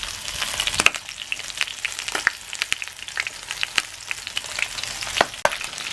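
Fish sizzling and spitting as it fries in a pan, a loud, dense crackle of hot oil with sharp pops throughout, close and with no voices.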